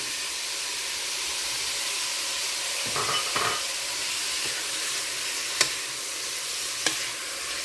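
Onion frying in a pan with spices such as cumin for pork green chili, a steady broad sizzle throughout with a few soft stirring scrapes and two sharp utensil clicks near the end.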